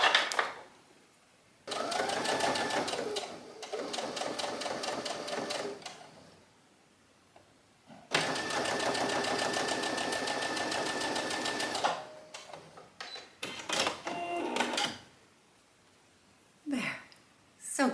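A Brother self-threading sewing machine stitches a blouse in several bursts of close, buzzing needle chatter, the longest run lasting about four seconds, with short gaps and handling clicks between them and some breathing nearby.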